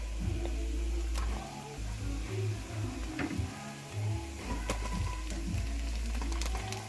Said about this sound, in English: I'm gonna cook your shrimp until they turn, you know, pink.